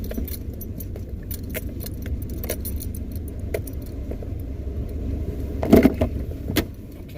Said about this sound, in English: And I'm moving forward. Going over speed bumps.